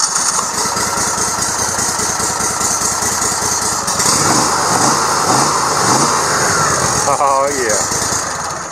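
A Gator Tail 40 XD outboard motor on a new 1854 aluminum boat runs and idles with a loud steady rumble close by, while someone speaks briefly over it.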